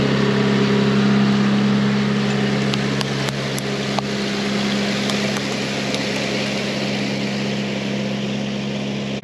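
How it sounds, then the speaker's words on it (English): A tractor pulling a planting machine on a no-till or strip-till field runs with a loud, steady engine drone and a low hum throughout, with a few faint clicks and rattles from the implement and no voices. "this machine that is hooked to the back of the tractor here"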